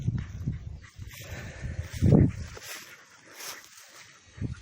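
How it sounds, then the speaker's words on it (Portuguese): Hunting dogs bay and whimper while working a scent trail, with a few separate yelps rising from a quiet outdoor backdrop, one louder cry in the middle and softer ones further off. "Só de ver os cachorros trabalhar no rastro não tem preço não"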